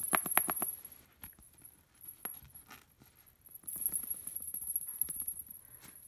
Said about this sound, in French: ça fait un charmant petit bruit de clochette